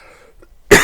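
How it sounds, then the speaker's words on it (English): A person with a cold lets out one sudden, loud, close cough after a moment of near silence. "I've never coughed in your ears before like that."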